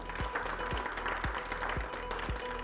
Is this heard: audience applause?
yes